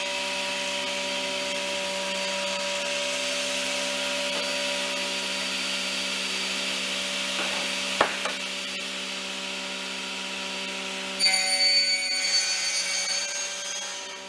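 A saw blade, the second blade tried, cuts wood in a cabinetmaker's art-woodworking workshop as a steady, fairly loud hum with a sharp click partway and a harsher burst of cutting near the end.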